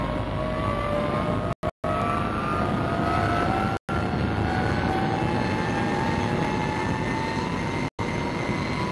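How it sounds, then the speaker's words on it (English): A squadron of jet aircraft takes off almost simultaneously, a loud continuous roar with rising engine whine sweeping upward, broken by a few abrupt cuts. "Mass takeoff that launches a squadron of jets almost simultaneously into the air"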